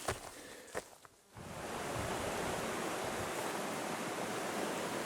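Steady broadband rush of a stream swollen with snowmelt runoff off Jefferson, flowing close by and continuous after a brief quieter moment at the start, with no talk over it.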